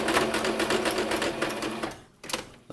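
A sewing machine back stitches fabric for a rat corner hut hammock, whirring steadily and loudly for nearly two seconds, then stopping, followed by a few brief clicks and handling noises.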